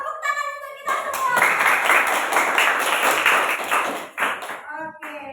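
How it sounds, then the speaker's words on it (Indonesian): A classroom of students claps together, led by their teacher. A voice speaks briefly before the clapping starts, then sustained, dense applause from many hands fills the room for several seconds and trails off as talking resumes. "Tepuk tangan untuk kita semua"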